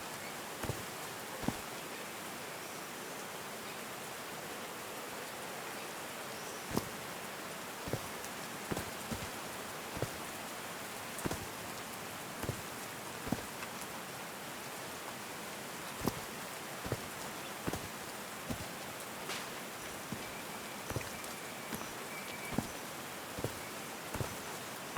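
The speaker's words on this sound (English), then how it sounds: "These drops of rain are so refreshing." Rain falls in the game Call of the Sea, a soft continuous patter with scattered sharper drops ticking close by at an irregular rhythm, calm and alone.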